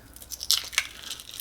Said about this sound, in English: I'm just cracking it on the side of the sink